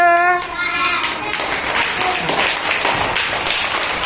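Children clapping together in a classroom to congratulate a classmate, a steady burst of applause lasting several seconds right after a brief voice at the start.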